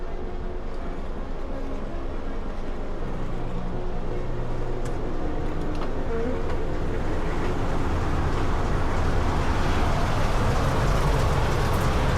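Steady rumble of a train on the Ambergate to Pye Bridge line in Derbyshire, old Mark I coaching stock, near Ironville Junction; continuous loud low running noise that builds slightly toward the end, with no talk.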